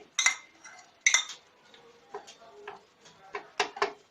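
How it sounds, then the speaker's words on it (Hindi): Onions being chopped into minced meat for gola kabab: sharp, irregular knife taps and clinks against a board or bowl, close and fairly quiet, in separate strokes with short pauses. "अब हम साथ ही इसके प्याज भी डाल देंगे, और इसको भी अच्छे से हम चॉप कर लेंगे।"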